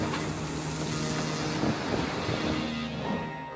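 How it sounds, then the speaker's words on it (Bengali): A stormy Atlantic Ocean, seen from a cruise ship, where a sailboat is battered by huge waves. Strong wind roars steadily and waves crash and surge in a loud, continuous wash. "28 ফুট উচ্চতার পাল তোলা একটি নৌকা ঝড়ের মধ্যে সমুদ্রের ঢেউয়ের ধাক্কায় উল্টে যাওয়া থেকে"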